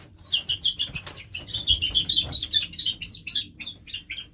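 Young farm birds and hens give a rapid series of high, thin cheeping chirps, a dozen or so in quick succession, fairly close and moderately loud over low background rustling.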